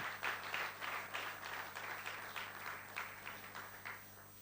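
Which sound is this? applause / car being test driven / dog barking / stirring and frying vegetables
applause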